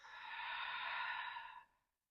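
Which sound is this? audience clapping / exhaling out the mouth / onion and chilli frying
exhaling out the mouth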